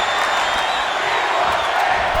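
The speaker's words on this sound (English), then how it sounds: "And the crowd is chanting, we want tables." A virtual arena crowd at an NXT wrestling event in WWE 2K24 roars in a continuous loud wash of massed voices, with cheering that swells slightly but no distinct chant words standing out.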